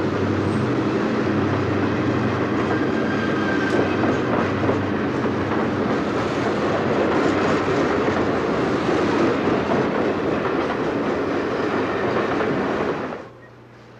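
A Seaboard Coast Line train speeds north past Delta, South Florida, in 1970, with a sustained rushing roar and rhythmic wheel clatter, loud and close, ending abruptly as it fades away.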